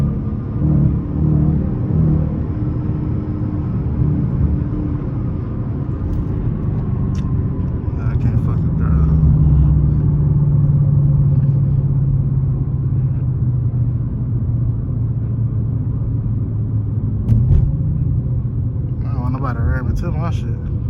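A Dodge Challenger R/T rolls along with a loud, steady low engine rumble and road noise heard from inside the car, with faint voices now and then.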